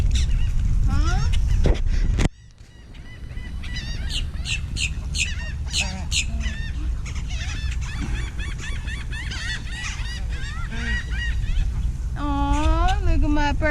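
Waterfowl at a lake where birds are being fed, with a swan among them: repeated honking and squawking calls, some close and loud, over outdoor background noise, with a voice speaking nearby.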